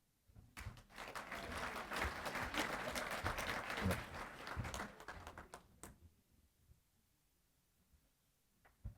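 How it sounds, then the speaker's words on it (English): An audience at a school district employee recognition ceremony breaks into a sustained round of clapping that swells for several seconds and then tapers to a few scattered claps. "Big round of applause to Tammy Chisholm, Parent Educator, Carroll"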